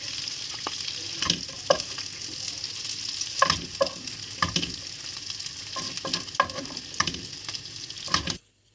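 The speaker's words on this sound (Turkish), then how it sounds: "Etimizi ekliyoruz arkadaşlar. Eti biraz kavrulduktan sonra tekrar tabağımıza alıyoruz." Meat sautéing in a pan, a steady crackling sizzle broken by repeated sharp scrapes and clacks of stirring, close and alone, ending abruptly.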